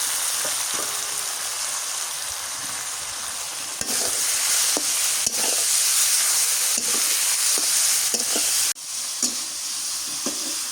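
Pointed gourd (potol) frying in hot oil, giving a loud, steady sizzle with a bright hiss and scattered clicks and scrapes of stirring, briefly dipping near the end before resuming.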